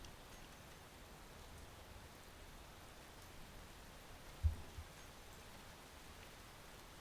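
Steady rain in the video game Space Engineers, a soft even hiss of falling drops running throughout, with one brief low thump partway through.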